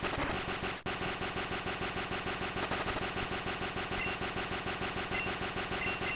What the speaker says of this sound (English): fucking motorcycle noise is so annoying